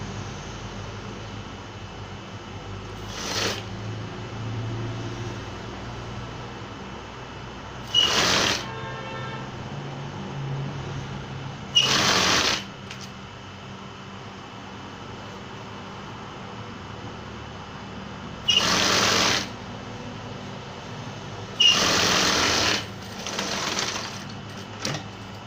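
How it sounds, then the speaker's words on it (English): A sewing machine stitching a senator top from the centre across a sleeve, heard as several short, separate bursts of fast mechanical running with quiet pauses between them. "I'm still going to sew from this center down to the other side."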